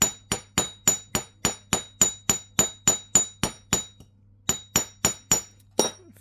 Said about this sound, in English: So just keep hammering, and I want to flare out these sections here.